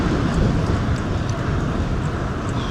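Strong, steady wind roars across the microphone during a gravel bike ride on the Pine Island Gravel Odyssey, a loud, unbroken rumble that never lets up.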